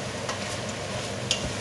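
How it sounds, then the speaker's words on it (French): Vegetables and veal being stirred in a hot pot, a spoon scraping and turning through pieces over a continuous sizzle, up close with no talking. "Je vais mélanger tout ça."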